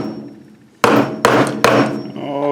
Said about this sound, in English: I'm just going to go and take a hammer and then lightly tap it in there.